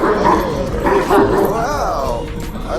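A dog at a dog training seminar venue gives excited yips and high, wavering whimpers close by, with a person's voice mixed in among them.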